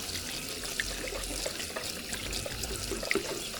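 Powdered pesticide being stirred into water for spraying citrus trees, a steady close liquid swirl and trickle with small clinks, continuous and fairly quiet without speech.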